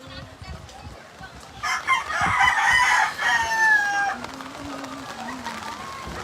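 A rooster crows once in the middle, loud and close, during a typhoon flood in Marilao, Philippines, with scattered clucks and background noise around it.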